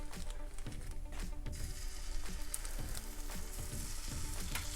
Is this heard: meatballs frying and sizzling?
yes